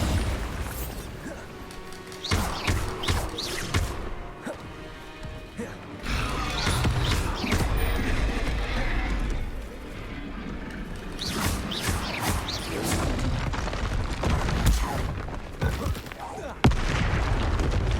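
Spell effects from the Hogwarts Legacy video game, including the Bombarda explosion spell, with repeated booms, crashes and mechanical clatter in bursts across the span, interspersed with brief quieter gaps.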